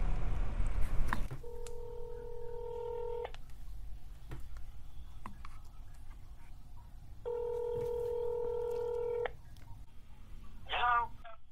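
Telephone keypad tones as a call is placed: two steady two-note dialing beeps of a couple of seconds each, separated by quiet line noise with faint clicks, ending in a brief rapid chirping burst.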